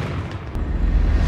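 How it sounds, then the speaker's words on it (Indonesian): A heavy, booming sniper rifle shot from the Black King gun in an action film, a deep rumbling blast with a sharp crack partway through, loud and close with no voices. "Swigger akan berusaha membidik Anthony dari sana dengan menggunakan senjata Black King"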